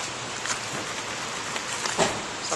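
Steady rain in Britain hisses across a surface with scattered louder drops and taps, a continuous broadband wash with no voices.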